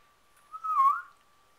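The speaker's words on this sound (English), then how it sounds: "Why are you crying? Sound like you're crying back there." A pug lets out a single faint, high, rising-and-falling whine lasting about half a second in an otherwise quiet room.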